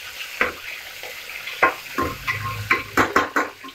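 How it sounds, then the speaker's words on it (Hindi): Tomatoes for Rampur-style mutton biryani sizzle in a pan as a spoon stirs them gently, with soft scraping strokes recurring every half second or so over a steady frying hiss. "अब इसको बहुत हल्के हल्के चलाते रहें"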